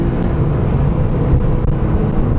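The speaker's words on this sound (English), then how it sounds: "downshift and full throttle. All right, love that scream" Porsche 911 997.2 Carrera S flat-six wailing at full throttle after a downshift, a loud continuous roar from inside the car with steady low-end drone and no talking.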